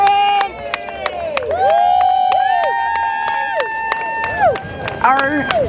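Supporters of Tulsa Public Schools rally at Hale High School, a lively crowd cheering and shouting in a steady roar with bursts of whistles and high calls, voices talking through the noise.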